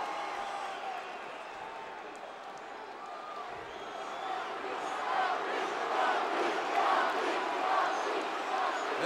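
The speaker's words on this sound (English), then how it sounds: "This crowd jacked up for The Rock, the new WWF champion" A wrestling arena crowd roars for The Rock, a broad wash of cheering that swells louder toward the end, with commentators talking over it.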